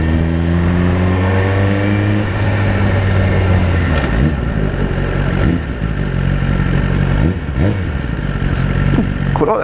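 Suzuki GSX-R1000 superbike fitted with a Yoshimura exhaust, revving hard and pulling away on an open A-road, a loud, steady engine roar that climbs through the gears with brief dips at each shift.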